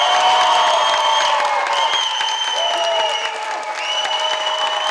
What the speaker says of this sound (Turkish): büyük alkış